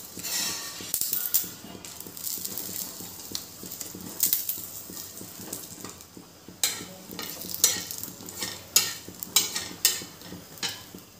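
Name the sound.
spices sautéing in oil in a pan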